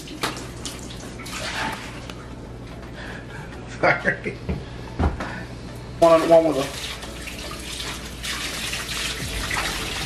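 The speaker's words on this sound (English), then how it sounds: "And now we're gonna fill it up with water." Water runs into a newly plumbed Red Sea aquarium tank, a steady splashing rush like a filling tub that continues under intermittent talk and brief handling noises.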